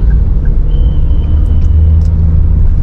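Steady low road rumble inside a 2019 Toyota Rush TRD automatic while driving, a constant engine and tyre drone with faint higher hiss, no talking.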